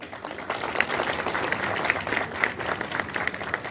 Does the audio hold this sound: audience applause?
yes